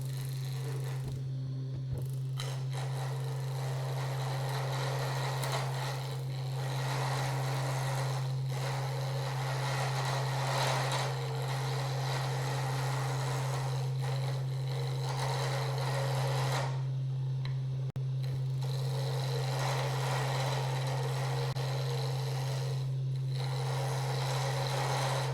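Wood lathe spinning a wooden blank for a spinning top at about 1550 RPM, a steady low motor hum under continuous rasping and rubbing as the tool cuts, with brief pauses between passes.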